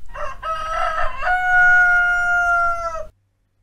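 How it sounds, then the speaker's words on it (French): A farm rooster crows once, a loud, close cock-a-doodle-doo that rises and holds a long, strained final note for about three seconds before cutting off to silence. "Un coq."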